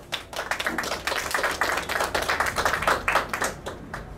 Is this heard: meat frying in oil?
no